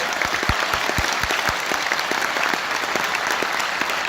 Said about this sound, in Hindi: इसके माँ बाप के लिए एक बार जोरदार ताली बजा दीजिए।